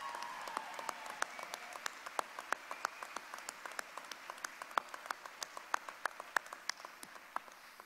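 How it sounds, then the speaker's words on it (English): A crowd applauds at a fall university commencement ceremony in a large hall, a steady wash of distant clapping with scattered sharper claps standing out, sustained throughout. "I think he deserves another round of applause"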